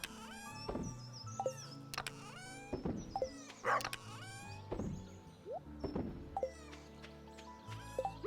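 A dog barks in a farming video game, several yappy barks scattered among clicks, thunks and other game sound effects over a faint steady background.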